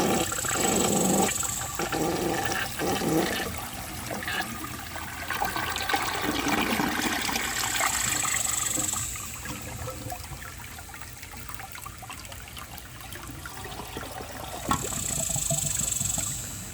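A blue 1963 American Standard Cadet toilet flushes a washcloth, with a loud rushing swirl of water, gurgling as the bowl drains, then a quieter refill trickle with occasional louder surges.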